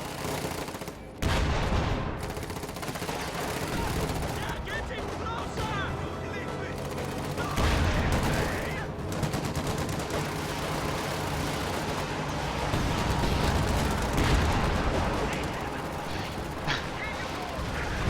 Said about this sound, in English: Stuka Barrage is just going into the base blind